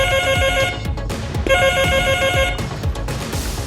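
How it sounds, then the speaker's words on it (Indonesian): A telephone rings for an incoming call, two repeated electronic ring bursts loud and close, with a rhythmic background beat underneath. "Jadi ada telepon masuk lagi dari teman saya."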